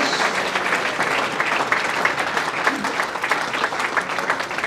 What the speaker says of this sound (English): can we give a huge round of applause for Mitch Robson and his team